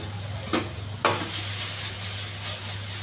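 Ginger-garlic paste stirred in hot oil in a pan alongside steamed okra and curry leaves, giving a steady close sizzle with a couple of sharp utensil scrapes against the pan.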